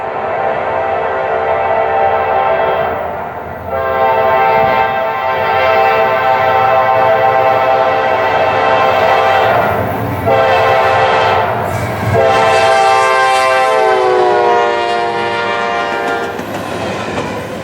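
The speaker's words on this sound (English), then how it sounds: "You also have the Nathan K5LA," A powerful Nathan K5LA horn on a GE locomotive sounds in several long, chord-like blasts, with rumbling train noise and rail clatter underneath between the blasts.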